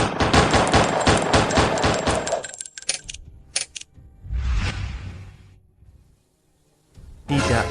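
Rapid bursts of gunfire aimed at a monster, a fast volley of loud close shots for about two seconds followed by scattered single shots, a rumbling impact, a quiet gap, then another loud burst.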